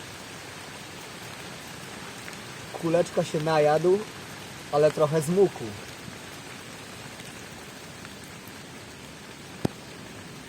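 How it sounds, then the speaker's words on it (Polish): Light steady rain patters in the background while a person speaks briefly in two short bursts, followed by a single faint tap. "Teraz to już chyba zwykły, zwykły deszcz."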